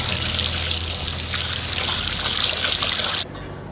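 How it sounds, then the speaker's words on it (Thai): A tap runs steadily into a basin to dissolve baking soda for soaking vegetables, a loud, close, continuous gush of water that cuts off abruptly near the end. "เราก็เปิดน้ำแล้วก็ละลายเบกกิ้งโซดา"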